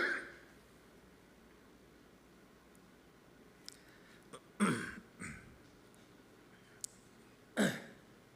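A preacher with a lingering cough coughs during a church sermon: two separate harsh, throaty bursts a few seconds apart, close and fairly loud against a quiet room.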